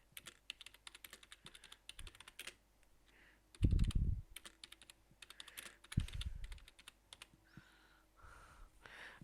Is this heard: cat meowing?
no